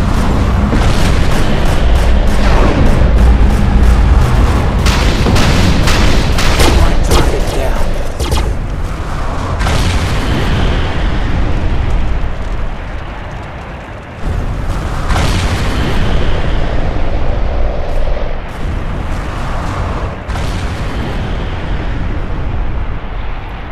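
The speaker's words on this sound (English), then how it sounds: "Keep an eye out for incoming artillery shots." Incoming artillery shots and explosions during a Major Arkfall battle in the video game Defiance: loud, dense booms and blasts that are thickest early on, then continue intermittently beneath a sustained roar of combat.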